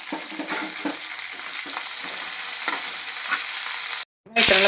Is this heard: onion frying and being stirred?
yes